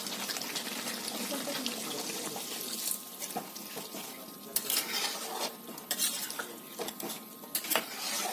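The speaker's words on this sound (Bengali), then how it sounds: "এখন আমি জল দিয়ে দেবো।" Water is poured into a pot of chicken curry, with quiet stirring, utensil clinks and a faint simmer, close by and fairly soft.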